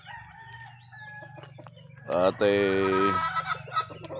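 Chickens and a rooster in a chicken coop: faint clucking and low ambient noise, then a loud, close rooster crow rings out in the middle, followed by more clucks, with a brief voice in the background.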